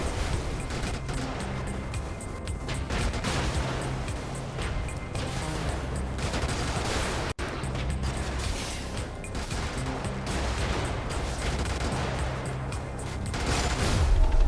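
Gunfire aimed at a torpedo in the video game Brigador forms a dense, loud, continuous barrage of crashing shots and mechanical clatter that runs unbroken throughout, with no talk.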